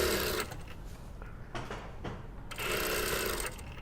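Sewing machine stitching along the top edge of a pencil skirt's waistband facing, a close, steady mechanical whir with rapid needle chatter, briefly slowing mid-run before speeding up again.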